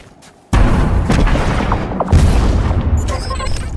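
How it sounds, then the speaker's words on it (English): A loud explosion in the video game Destiny 2 hits with a sudden heavy boom, followed by sustained rumbling and debris that rolls on for several seconds before tapering with faint electronic tones. "It's an explosion"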